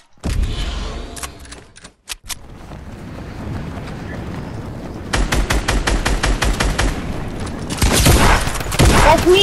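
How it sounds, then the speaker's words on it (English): Loud, close Fortnite gunfire, combat shotgun blasts and rapid bursts of shots, arrives in dense volleys with brief gaps, building into sustained fire toward the end. "Are you the one getting shot by combat?"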